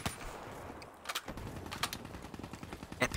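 Call of Duty gunfire rings out in sharp repeated shots and short bursts during a Search and Destroy round, fairly loud against a quieter game background with little talk.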